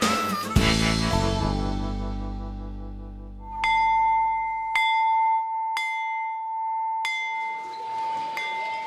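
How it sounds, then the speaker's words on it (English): A school bell at a Salesian institution of John Bosco rings out for playtime, struck four times in a bright, ringing tone at steady intervals, with music fading out just before it. "The sound of the bell worldwide means playtime."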